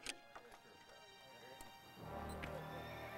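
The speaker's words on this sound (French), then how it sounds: "Chaque matin, les chevaux quittent les écuries de Banff pour diverses missions" Horses of the Parks Canada wardens leave the stables in Banff, with a brief whinny and scattered hoof clops, then a steadier, louder rush of movement and noise in the final second.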